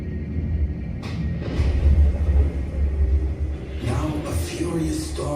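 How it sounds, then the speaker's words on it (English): Deep rolling rumble of thunder, loud and sustained, with a heavier surge near the end and a voice speaking over it. "Now a furious storm breaks."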